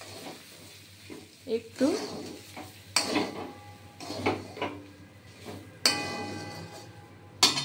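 Semolina stirred in a pan, with scraping spoon strokes and sharp clinks against the metal between soft frying sounds, while someone talks quietly.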